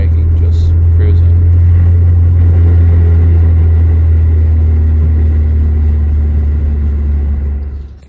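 A Volvo 740 cruises after a transmission swap, with a steady low drivetrain drone and road rumble filling the cabin continuously, loud and unbroken, fading out at the end.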